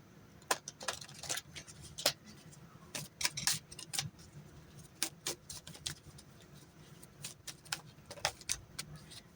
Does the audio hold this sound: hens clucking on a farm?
no